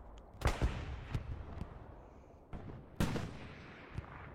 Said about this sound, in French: On a 3 artilleurs qui tirent.